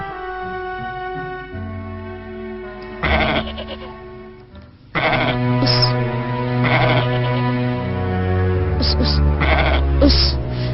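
Goats bleat over a musical backing, several wavering calls in succession that come close and loud, with no talking.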